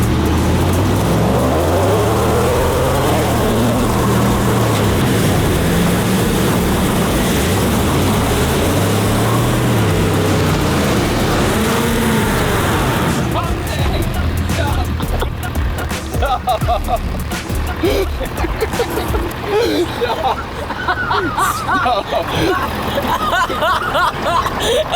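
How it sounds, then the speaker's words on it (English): Gas and diesel Ford F350 and F250 pickup trucks roar through burnouts in dirt, a loud sustained engine howl with rising and falling revs, shifting later into rough, gritty rumbling and crackle as roost flies; voices talk faintly underneath. "we'll see which one does a better burnout, throws roost better, gas or diesel"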